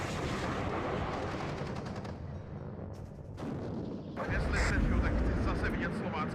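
Artillery fires in the WARNO war game as a dense, loud rumble of booming shots and blasts, and a heavier surge of explosions arrives partway through, with a voice talking briefly.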